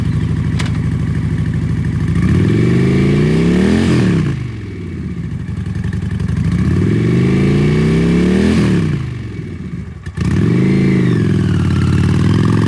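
A 2010 Honda Shadow Phantom 750cc V-twin cruiser engine revs up and down three times in steady swells, loud and close, with idle between the revs and no talking.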